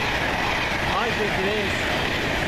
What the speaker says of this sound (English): Going now through service from Manchester Piccadilly through to Didcot Parkway, Super Voyager.